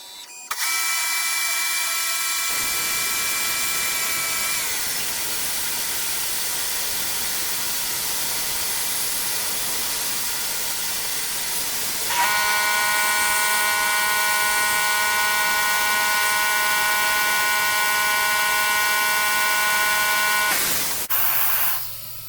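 CNC mill cutting a light scratch pass on a beadlock ring, a steady loud tonal whine with bright harmonics that shifts pitch and grows stronger midway before cutting off.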